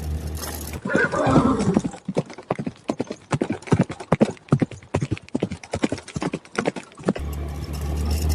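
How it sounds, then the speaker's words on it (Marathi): Rhythmic horse hooves clip-clop on a hard road, many quick even beats, close and clear, framed by brief engine-like noise at the start and end. "त्या रोडवरती कधी काळी घोड्यांच्या टापांच्या आवाज असते."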